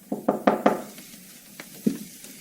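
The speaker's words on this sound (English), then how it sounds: "Late that night, Ayub heard a soft knock at the door." A soft knock at a door, three quick raps close together followed by a few fainter taps, near and clear against a quiet background.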